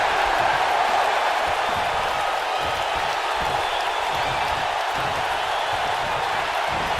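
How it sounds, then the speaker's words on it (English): Capacity crowd at a wrestling match roaring and cheering in a steady, dense wash of noise, with a commentator's voice faintly mixed underneath. "This capacity crowd starting to sense the end is near"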